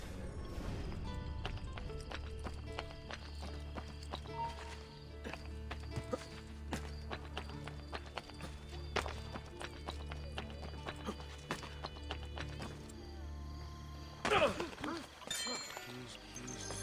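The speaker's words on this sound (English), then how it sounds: "I'm gonna call a horse and go to that one" A horse gallops in Assassin's Creed Brotherhood, with rapid, steady hoofbeats on hard ground close up and a brief neigh near the end, while a player speaks over it.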